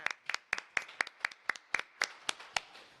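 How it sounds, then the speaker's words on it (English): Clapping at a school board action meeting, a sparse group of hands striking in quick, uneven bursts, close and crisp, with no voices over it. "Now we can clap."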